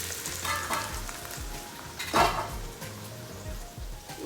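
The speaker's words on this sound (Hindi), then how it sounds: "इसको प्याज फ्राई कर रहे हैं" Onions frying in a pan for aloo paratha stuffing, a steady close sizzle with a few scraping stirs and one louder clatter midway, no talking.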